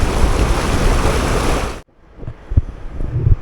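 A river or creek near El Cocuy in Boyacá, Colombia flows as a loud, broad rushing wash with wind noise, then cuts to quieter, distant water with soft knocks and rustles.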